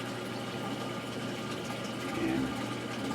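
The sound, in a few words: aquarium auto top-off (ATO) pump running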